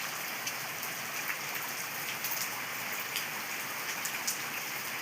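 Heavy rain pours steadily outdoors in Tiruchendur, a dense, even hiss of drops striking surfaces, constant and unbroken with occasional louder spatters.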